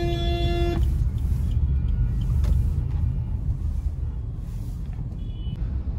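A car driven in monsoon rain gives a steady, loud engine rumble and road noise, with a brief tonal beep at the start.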